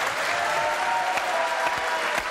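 A TV studio audience applauds on a French variety show, a dense, even clapping throughout the short stretch, close and loud with no talk over it.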